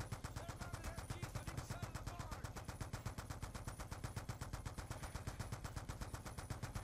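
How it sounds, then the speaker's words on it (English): Rapid, continuous automatic gunfire from a weapon in Call of Duty: Black Ops 2, an unbroken stream of evenly spaced shots held at steady loudness from start to finish. "this one can just keep on shooting"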